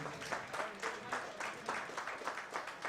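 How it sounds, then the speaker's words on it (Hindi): Faint, steady applause from an audience at the title launch of the 2016 film Ishqva, with claps gathering into soft, rhythmic swells over a few seconds. "प्लीज तालियां हो जाए, एक बार जोरदार तालियां।"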